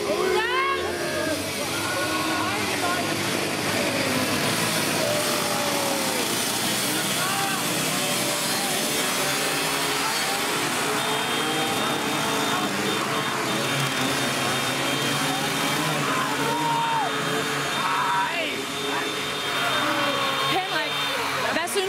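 Buzzing two-stroke engines of the Teufelskerle moped gang arriving, a dense continuous drone of several mopeds revving together, loud and close, with voices mixed in beneath.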